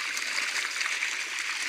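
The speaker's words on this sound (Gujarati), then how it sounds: "જો આ મોટરમાં આ પાણી આવું આવે છે" Irrigation water gushes from a pump motor outlet into a wheat field, a steady, hissing rush of flowing water heard close up with no other sounds.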